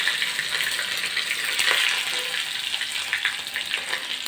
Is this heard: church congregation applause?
no